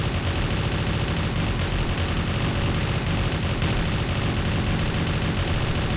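A 5.56 automatic rifle in 7 Days To Die fires a dense, unbroken buzzsaw burst, loud and close, with rapid shots blurring together over six seconds and no talk.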